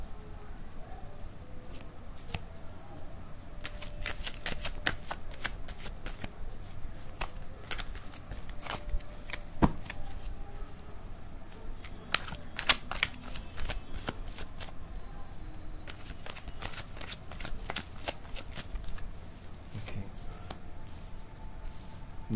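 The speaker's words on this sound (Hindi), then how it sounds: "मैं कार्ड्स को ढंग से लगा लेता हूँ।" Tarot cards being shuffled and handled close by, with irregular clusters of crisp riffles and taps over a low, steady background hum, with no clear talk.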